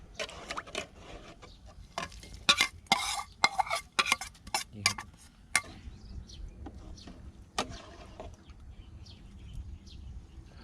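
Curry paste is stirred into bamboo shoot curry with wild greens in a pot, with irregular clatters and scrapes of a utensil against metal, busy at first and then sparser, and faint birdsong in the background.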